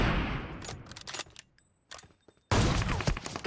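Bursts of gunfire in the mobile battle game PUBG Mobile crackle in quick volleys, a short gap of near silence, then a loud dense burst of shooting resumes.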